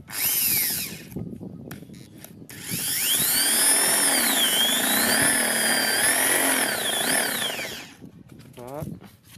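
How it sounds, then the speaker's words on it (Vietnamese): A Bosch GSB 550 Freedom drill fitted with a concrete bit runs in a short burst, stops, then runs in a long, loud whine that rises and falls in pitch as it bores before spinning down, heard close. "mình sẽ khoan thử"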